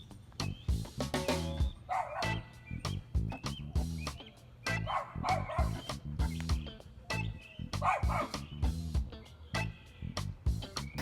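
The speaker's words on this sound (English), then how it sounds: "So that's just a video of dogs are barking, and Gemma's just kind of just chilling" Several dogs bark repeatedly in a busy, overlapping chorus, heard through a played video; the barks come in steady bursts throughout at moderate loudness.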